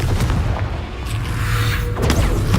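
A Confringo explosion spell in the video game Hogwarts Legacy lands as a loud, close boom with a burst of fiery crackle, followed by another impact near the end.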